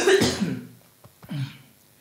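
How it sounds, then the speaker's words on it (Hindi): Two separate coughs from one man, close and fairly loud, the first harsh and throaty, the second shorter after a brief pause, with no talking. "थोड़ा सा जो है वो खांसी परेशान कर रहा है"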